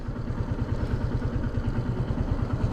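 Motorcycle engine near a multi-sport playground while the rider parks, a close, steady low idling putter with rapid regular pulses throughout.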